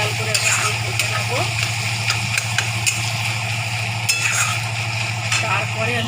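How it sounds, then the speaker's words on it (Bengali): Onions fried deep red and stirred in a pan for a potato and bhetki fish curry, a steady sizzle with scraping spoon strokes and light pan knocks over a low constant hum. "এই দেখুন আমার পেঁয়াজটা লাল লাল করে ভেজে নিয়েছি।"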